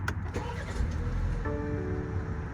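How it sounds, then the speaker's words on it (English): A BMW engine starts inside the car using a digital key card, with a brief click and shuffle followed by a steady low idle that settles in close by. "Then you start your engine."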